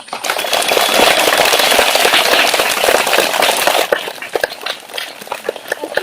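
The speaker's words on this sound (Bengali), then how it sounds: "সবাই হাততালি দাও।" Children in a classroom break into a burst of loud, dense group clapping that fades into scattered, uneven claps after about four seconds.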